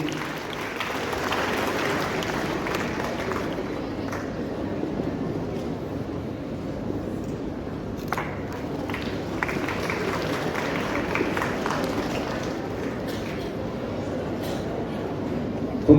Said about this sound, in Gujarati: તાળીઓના ગડગડાટથી વધાવીશું.